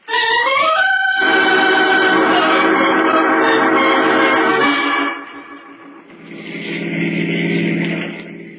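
Car driving as a sound effect in an old radio drama, a loud tonal engine whine that rises in pitch, holds steady, then drops and swells again, with no voices over it.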